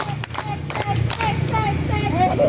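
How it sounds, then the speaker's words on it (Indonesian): Schoolchildren at a Pramuka scout session in an elementary school clap together in a counting clap game, with a few sharp group claps rising over steady chatter and voices. "Tepuk 1, tepuk 2, tepuk 3, tepuk 4,"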